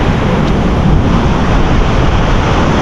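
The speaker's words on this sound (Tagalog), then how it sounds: "Alon, grabe." Rough ocean waves roaring steadily near boats pulled up on the shore, with a loud, unbroken wash of surf and heavy wind buffeting the microphone.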